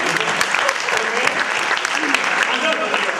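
A crowd claps steadily and enthusiastically, a dense wash of many hands, with voices faintly audible beneath the applause.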